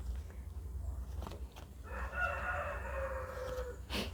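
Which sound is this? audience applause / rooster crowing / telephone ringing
rooster crowing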